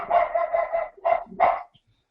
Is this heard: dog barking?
yes